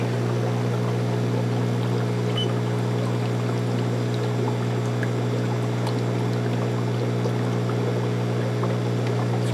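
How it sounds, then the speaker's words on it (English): Water runs steadily through a Geo's Reef calcium reactor pump on a cylinder reef tank, a constant pump hum with light trickling and gurgling throughout, no voices. "Water going through it."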